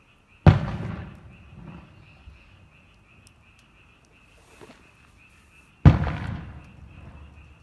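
Two separate distant firework bursts at a fireworks festival, each a sudden boom trailing off into a rumbling decay, spaced several seconds apart over a quiet outdoor background with a steady high insect-like tone.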